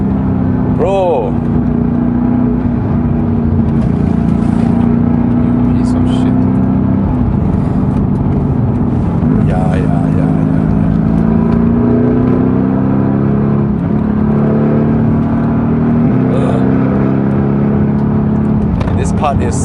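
Mercedes-AMG GT S driving a mountain road up to Genting, a loud continuous engine drone with shifting pitch as it climbs and eases off, heard from inside with people talking over it.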